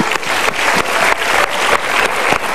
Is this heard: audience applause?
yes